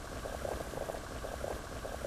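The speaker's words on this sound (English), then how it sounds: "The water on the burner is boiling" Water boils in a wok set half over a burner, a steady low bubbling and hiss with faint rhythmic rattling, continuous and fairly quiet, with no voices.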